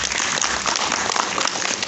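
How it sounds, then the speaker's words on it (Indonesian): An audience at an Indonesian literacy appreciation ceremony in Bogor claps together, producing a brief, dense burst of steady crackling applause. "Tepuk tangan buat kita semua."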